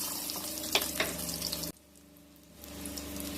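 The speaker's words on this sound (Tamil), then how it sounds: "புளியை சேர்த்துக்கிறோம். எல்லாம் நல்லா வதங்கி வரணும்." Chillies, coconut, tamarind and a few garlic cloves sauté in a pan for a Tamil pirandai thuvaiyal, giving a steady near sizzle with a couple of light clinks, then a brief drop before the frying hiss swells back.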